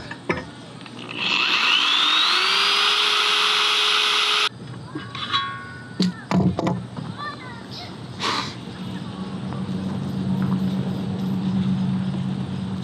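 A high-pitched power drill whines steadily for a few seconds, its pitch rising as it bites into metal, followed by clattering and handling noises.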